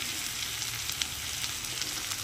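Nigella seeds sizzling in hot oil with turmeric for a fish and green tomato dish, a steady close crackling fry with faint pops, no talking.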